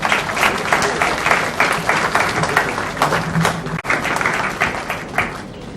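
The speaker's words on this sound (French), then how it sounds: "Je vous demande de les applaudir." Loud, close applause from the crowd at the inauguration of a hospital, honoring national health teams. Many hands clap in dense, uneven bursts with a brief dip partway through before the clapping resumes.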